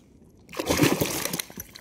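Near-silence gives way to a sudden close-up burst of water splashing onto a phone on a fishing boat, sloshing and spattering for over a second.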